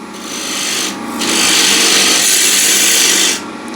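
A bowl gouge cutting into a wooden bowl spinning on a lathe, a loud, close, continuous hiss of shaving wood that briefly eases off and then resumes in a sustained cut before stopping.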